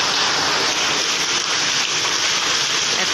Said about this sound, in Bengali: এত বৃষ্টি, প্রচণ্ড পরিমাণে বৃষ্টি হচ্ছে